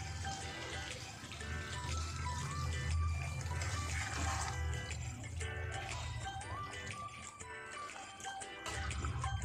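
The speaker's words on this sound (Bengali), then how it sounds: "এবার এই জলটা আমি দিয়ে দেবো মাংসে।" Hot water poured into pan-fried chicken that has been thoroughly browned in oil for a Bengali chicken-and-fig curry, a steady liquid pour under loud background music.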